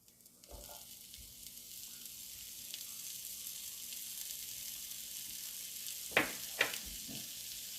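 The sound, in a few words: diced onions sizzling in a frying pan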